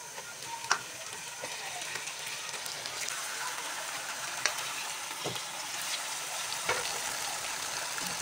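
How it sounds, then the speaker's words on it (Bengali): Duck meat and onions fry in hot oil, a dense continuous sizzle with occasional clinks and stirring scrapes, steady and close throughout. "তেলের মধ্যে পেঁয়াজগুলো ভালো করে ভেজে মাংসগুলো দিয়ে কষাতে থাকবো আধা ঘন্টা।"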